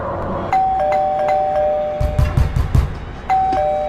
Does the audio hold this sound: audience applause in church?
no